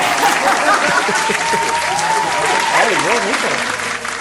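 Loud canned crowd applause fired from a sound-effect button fills the room, steady clapping and crowd noise held across the whole stretch while voices talk over it.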